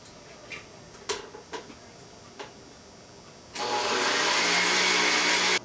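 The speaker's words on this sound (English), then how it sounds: "1 teaspoon of vanilla extract. Okay, and then you are just going to blend that all up." A blender whirs on after a few light clicks and knocks, mixing chocolate cake batter with vanilla extract; the motor runs as a loud, steady close roar through the final seconds.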